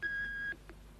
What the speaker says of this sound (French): si vous avez un message à nous laisser, allez-y après le bip.